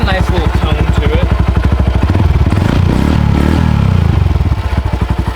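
A Honda Grom motorcycle with a stage 1 tune idles and revs up close, its small engine and exhaust pulsing in a rapid, loud putter that rises and falls, with some voice mixed in.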